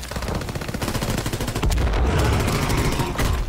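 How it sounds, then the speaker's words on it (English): Constant, loud, dense gunfire and a heavy boom roar through WW2 zombies game combat, with a deeper blast about halfway in that could be a thrown grenade going off. "I just threw a grenade."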